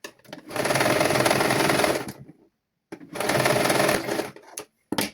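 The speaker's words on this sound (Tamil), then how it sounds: "இப்போ நான் வந்து இந்த ஹோனருக்கு நான் தைத்து கொண்டு வரணும்" A sewing machine stitches a corner of a child's garment in two close, loud bursts of rapid whirring, separated by a short pause, with a brief restart at the very end.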